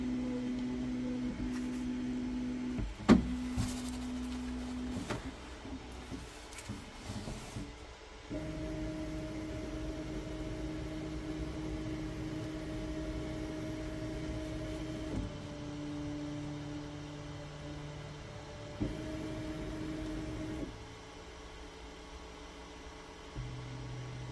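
A Flashforge Adventurer 5M Pro 3D printer runs its motors during setup, steady humming tones that shift pitch in several distinct steps, with a few sharp clicks near the start, quiet and close in a still room.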